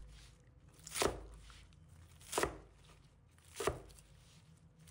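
Knife chopping water spinach into short pieces on a cutting board, three distinct, evenly spaced thuds about a second and a half apart, close and clear against a quiet kitchen.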